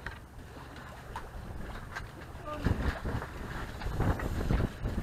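A sailboat moves slowly under wind at about two knots, with a steady wash of wind and water around the hull, louder gusts and splashes building in the second half, and someone talking over it.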